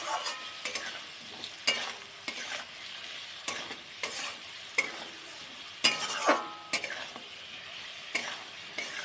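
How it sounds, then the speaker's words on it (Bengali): A hog plum pickle with salt, turmeric and fried whole chillies being stirred gently in a frying pan, with a soft steady sizzle broken by repeated scraping strokes of a spoon, close and alone without speech. "হালকা হাতে নাড়িয়ে দেবো।"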